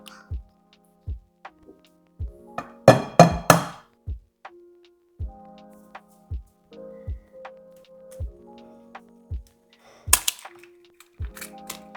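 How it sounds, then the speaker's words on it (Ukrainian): Eggs cracked one after another into cheesecake cream for a New York cheesecake, a run of sharp, close taps spaced through the clip with a brief louder clatter near the middle and another toward the end. "І вбиваємо туди 3 яєчка."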